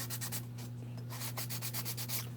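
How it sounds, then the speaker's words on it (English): A model car is sanded by hand, with quick rhythmic back-and-forth rubbing strokes, close and steady, over a constant low background hum. "So now let's do some more sanding."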